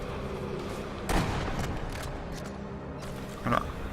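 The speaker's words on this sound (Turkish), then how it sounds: "Sanırım şu kırmızı tanklar her, her oyunda olduğu gibi patlıyor arkadaşlar." A red explosive tank blows up in the shooter game Sniper Elite V2, giving two fairly modest booms about two seconds apart over a steady background of game ambience.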